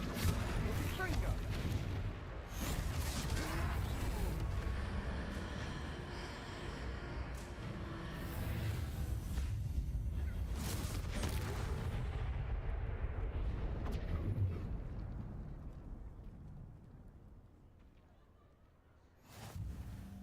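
Confringo fire-spell blasts in the video game Hogwarts Legacy, fought against a troll: repeated heavy booming explosions with rumbling tails over a dense battle din, fading out near the end, with game voices present.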